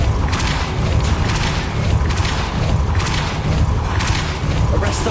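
Depulso spell cast in Hogwarts Legacy, heard as repeated booming thumps and bursts of force in quick succession, loud and close, over a dense rumbling game background.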